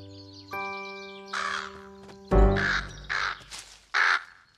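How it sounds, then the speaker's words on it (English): A crow in a children's cartoon gives four loud, harsh caws in an uneven sequence after a sustained musical tone, each call raspy and close. "It's our friend, Mr. Crow."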